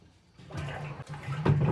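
Cold water pours into a muscadine brandy mash, a short splashing gush that starts quietly and swells to a louder, fuller pour by the end.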